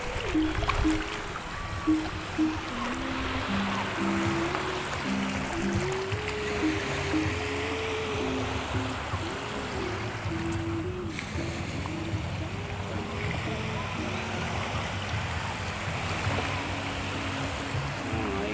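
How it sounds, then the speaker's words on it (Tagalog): Rough waves churning murky, muddy water at night while fishing from a small boat, a steady close wash of surf and splashing with faint voices now and then. "Kita nyo mga ka-idol yung gulong ng alon"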